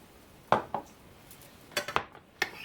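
A utensil clinks against a dish while egg yolk, cream and milk are stirred together, giving a few sharp scattered taps and scrapes close by in a quiet kitchen.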